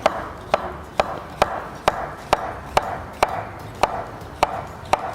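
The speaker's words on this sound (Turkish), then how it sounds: "Kapya biberlerimizi de doğruyoruz." Red kapya peppers are cut with a knife on a board, giving about a dozen crisp, evenly spaced chops in a steady rhythm, close and clear.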